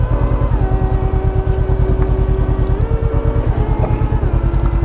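A 2017 Honda CBR500R motorcycle idling with a steady, bassy but not loud engine and exhaust throb, even and close with no talking.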